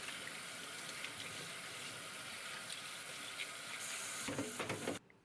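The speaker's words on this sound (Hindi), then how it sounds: "अब इसको जस्ट पानी से धोना है।" Tap water runs over a metal kitchen sieve being rinsed after cleaning, a steady close hiss and splash that shifts near the end before cutting off abruptly.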